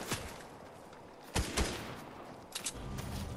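Several sharp gunshots in a Fortnite match as a player is shot from behind, one near the start and a pair in the middle and near the end, over steady game background noise.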